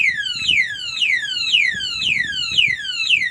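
Motorcycle alarm siren blaring steadily, a loud rapid series of repeating descending electronic sweeps with no pause, over faint low background rumble.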